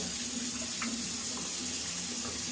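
Tap water running continuously into a sink while shaving soap residue is rinsed off, a steady close splashing flow with no pauses.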